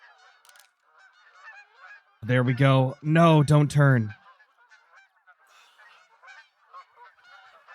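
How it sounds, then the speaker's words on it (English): Geese in the hunting game Call of the Wild honk overhead in a loud burst of repeated calls, with a person talking briefly before and after against faint background ambience. "Looks like we got a few geese coming over as well."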